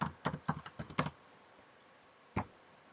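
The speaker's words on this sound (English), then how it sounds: "we can start typing the specializations" Quick keystrokes on a computer keyboard come as a rapid burst of close clicks, then a pause and one more isolated keystroke.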